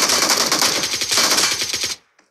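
Rapid automatic gunfire in the mobile battle royale game PUBG Mobile, a loud, dense burst of shots lasting about two seconds before cutting off abruptly, followed by a brief faint click.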